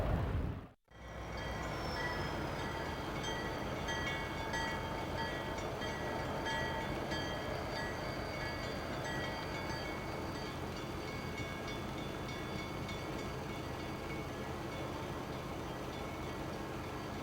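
A train fitted with a snow plow pushes through drifts at a Lewiston crossing in snowy weather, a steady loud rumble and roar of rail cars passing close by, with a sharp gap near the start and faint horn tones.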